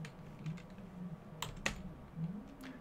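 Typing on a computer keyboard during an Arch Linux install in VirtualBox, a few scattered key clicks and a sharper double tap near the middle, close but faint over a low steady hum, with no one speaking.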